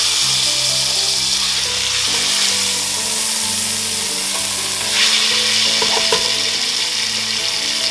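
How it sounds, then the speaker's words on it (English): A meat patty searing in a hot pan after being flipped, a loud, steady close-up sizzle that holds without a break, joined by a few faint clinks near the end. "now we're going to flip it and get a sear on the other side"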